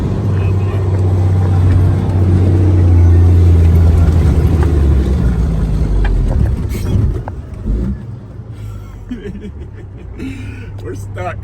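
An off-road Jeep stuck on a sandy road toward the dunes revs hard, a loud sustained engine drone that swells then drops off, with people talking over it.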